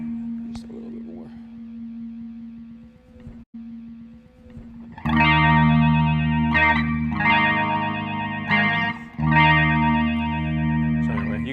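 Electric guitar run through an MXR EVH117 flanger pedal set slow and wide for a classic sweep. Sustained, loud chords and riffs ring out with a swirling, jet-like shimmer, preceded by a quieter held note.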